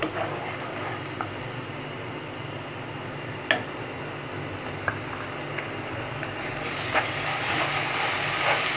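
Coriander, cumin, turmeric and chili powder sizzle in a pot while being sautéed for a country chicken and bottle gourd curry, a steady hiss running throughout with a few faint clicks and a slight swell near the end.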